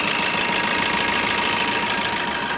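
A 2015 Maruti Suzuki Ertiga VDI diesel engine idles with a steady, dense rumble and a faint knocking texture, heard up close and unbroken throughout.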